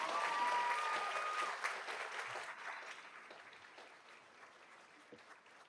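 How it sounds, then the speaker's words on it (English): Audience applause at a regular school board meeting, honoring an elementary school: dense clapping that starts loud and steadily fades over several seconds, with no talk over it. "Give them a round of applause."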